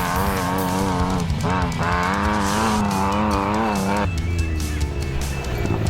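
A Bantam race car driven sideways on a rally race route, its engine revving hard in rising and falling sweeps with tyre scrub, loud and close, the engine note dropping away near the end.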